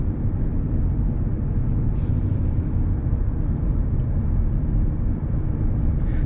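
Steady low engine rumble inside a moving car during a driving lesson in Jochiwon, Sejong, as the learner presses the accelerator, continuous and fairly loud with faint repeated ticks high above.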